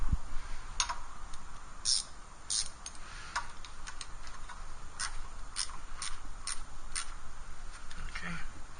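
A ratchet wrench tightens exhaust bolts on a 1998 Honda Civic DX during a full exhaust install, giving a series of sharp metallic clicking ticks at an irregular pace while a person talks.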